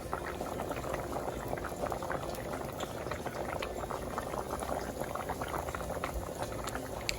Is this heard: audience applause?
no